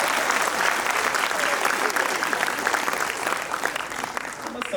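Crowd at a kavi sammelan poetry gathering applauds in a sustained, thick burst of clapping with some voices mixed in, loud and even before easing slightly at the end.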